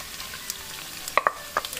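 Shredded chicken, beef and pork being tossed in a hot wok, a soft sizzle beneath a few sharp spatula clinks bunched near the end.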